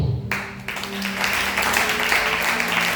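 Church congregation applauding during a sermon, a dense sustained wash of clapping that fills the space from start to finish, with faint voices mixed in.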